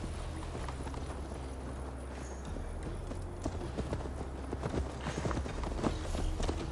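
A horse ridden at a steady pace in Assassin's Creed Valhalla clip-clops with rhythmic hoofbeats against a low ambient bed, growing slightly louder and busier toward the end.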